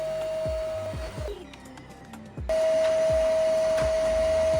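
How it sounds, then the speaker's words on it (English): A Hoover vacuum cleaner in a flat runs with a loud steady whine and motor roar, dipping briefly as the motor drops and then spooling back up to full power, with no talk. "With a huge relief, the Hoover spools up and it's working."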